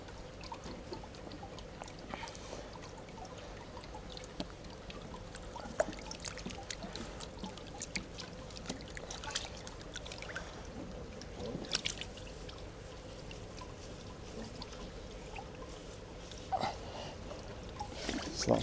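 Water from a pond pump under test pours and trickles steadily, a quiet continuous splashing with occasional small clicks and knocks over a low background hum.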